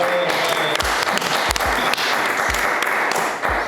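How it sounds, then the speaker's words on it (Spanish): Lively applause from a small audience welcoming a guest on a Christian podcast, brisk overlapping claps at close range with a few sharp thumps and no talk. "Un aplauso, por favor."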